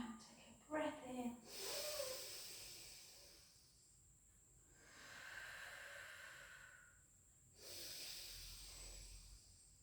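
During a Pilates relaxation exercise, a person breathes in and out slowly with soft, airy breaths, heard close in long swells separated by quiet pauses, after a brief voice at the start.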